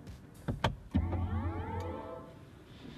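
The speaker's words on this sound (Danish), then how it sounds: "Det er simpelthen lyden af BMW's nye elektriske bil, det her." A BMW iX3 electric car pulls away after a few soft clicks, its quiet motor giving a faint electric hum that rises and falls in pitch, with no engine noise.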